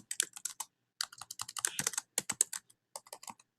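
Quick bursts of keystrokes clatter on a computer keyboard, close up, with brief pauses between runs of typing.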